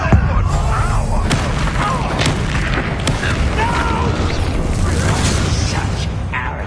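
A Bombarda blasting spell from Hogwarts Legacy goes off as a loud, dense booming explosion, ringing on continuously through the clip over battle noise, with a voice speaking alongside.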